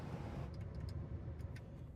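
The engine of a used Ford Crown Victoria, a Panther-platform sedan in excellent shape, idles in a steady low rumble with faint ticking on top, continuous and fairly quiet, with no talk.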